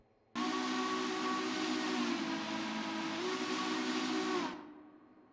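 One long, loud blast of a Heiko long bell three-chime steam whistle in the Railroader game. The chord holds steady with a slight pitch wobble over heavy steam hiss, then fades out at the end.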